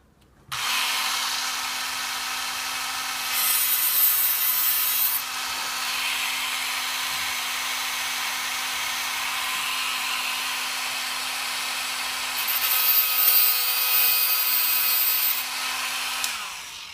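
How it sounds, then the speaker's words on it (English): A Dremel cutting bit slices through an FRP plate for a Tamiya Mini 4WD chassis with a steady, close, high-pitched whirring grind. The sound runs continuously for about sixteen seconds, rising slightly in intensity now and then. "I'm going to using the cutting bit, which is right here on the Dremel, and follow the line to cut the piece off."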